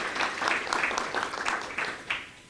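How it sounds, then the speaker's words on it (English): Workshop participants at a regional policy engagement meeting clap for themselves, a moderate round of applause with audible individual claps that thins out toward the end. "So I'd like you to give a hand of applause to yourselves for congratulations."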